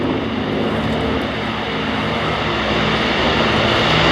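Loud, steady propeller engine drone from a Mark 9 Spitfire flying past at the RIAT 2018 airshow, a continuous rumbling roar that swells slightly toward the end.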